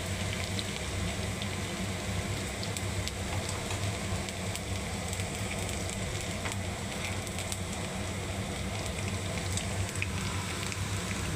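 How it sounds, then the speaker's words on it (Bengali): Shredded potatoes frying for aloo jhuri bhaja make a continuous, close sizzle laced with small crackles and pops, running evenly from start to finish. "দেখুন ঝুরি আলু ভাজা আমার"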